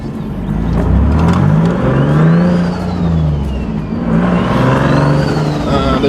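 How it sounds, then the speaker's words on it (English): A car fitted with two wastegates idles loudly and revs in two swelling pulls, with whistling turbo sweeps rising and falling over the engine's rough, close-up rumble. "this idle in this car sounds crazy, it sounds nuts. Listen to it."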